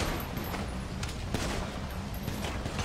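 Rapid gunfire bursts in GTA V roleplay on a NoPixel server, crackling through a constant dense wash of game noise, fairly distant and muffled rather than sharp, with no talk.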